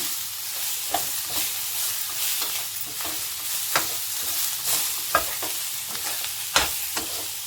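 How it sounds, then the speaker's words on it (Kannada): Bitter gourd with coriander leaves is stirred and sautéed in a pan, a steady low sizzle broken by repeated scraping clacks of the spatula at an irregular rhythm, close up with no talk. "ಹಾಗೆ ಸ್ವಲ್ಪ ಕೊತ್ತಂಬರಿ ಸೊಪ್ಪು, ಇದಿಷ್ಟನ್ನು ಚೆನ್ನಾಗಿ ಬಾಡಿಸ್ಕೊಳ್ಳೋಣ"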